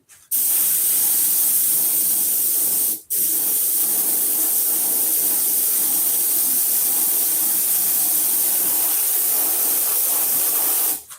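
A spray gun lays another coat of light blue paint in a long, steady hiss. The spray is loud and close, with one brief pause near the start before a continuous burst.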